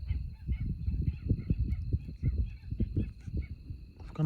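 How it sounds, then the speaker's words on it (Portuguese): Birds call at night near a campfire, low honking, goose-like cries repeating in irregular bursts close by, with no talk over them. "Estamos ouvindo uns barulho de pássaro."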